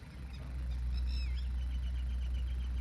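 High, thin bird calls chirp and trill repeatedly over a steady low rumble of ambient noise, fairly faint and somewhat distant.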